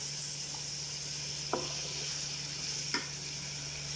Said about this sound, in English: now I'm going to fry this together